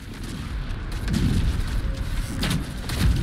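Explosions in Baldur's Gate 3 go off together as a chain of low rumbling booms and blasts, rolling and overlapping with swelling loudness toward the end.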